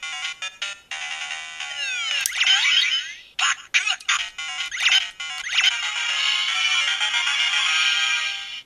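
A DX Pac Adventure Gashat transformation toy from Kamen Rider Ex-Aid plays the familiar Pac-Man melody as bright electronic beeps and warbling sweeps, loud and close, with brief pauses between phrases.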